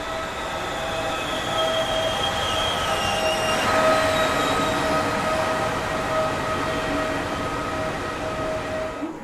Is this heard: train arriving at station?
yes